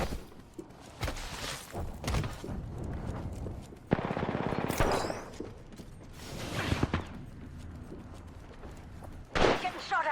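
Gunfire and combat clatter from an Apex Legends match, several sharp bursts and shots spread unevenly across a busy, loud mix with mechanical clanks in between.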